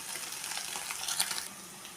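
Paneer cubes fry in a hot pan, giving a steady close sizzle with faint crackles and a few brief pops.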